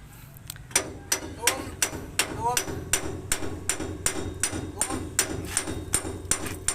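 A hammer strikes the leaf springs of a six-wheel truck over and over, sharp metallic blows about twice a second, close and loud, with a faint voice underneath.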